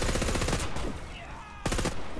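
Gunfire in the Warface video game during a Blackwood spec-ops mission: rapid automatic fire rattles continuously for most of the clip, ending in a sharp burst.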